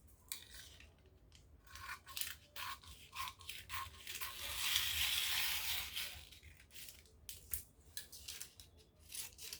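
Scissors snip rhythmically through fabric while cutting out a jumpsuit pattern piece, close and quiet, with a longer steady sliding cut partway through.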